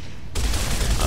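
Video game gunfire from Gears of War bursts in abruptly as a dense, loud, continuous volley after a quiet moment, filling the rest of the brief moment.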